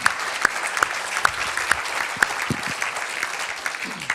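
Audience applause for Jeremy Gilley at a Peace One Day insights Q&A event, a steady wash of clapping from a crowd with sharp individual claps standing out, sustained throughout at moderate level.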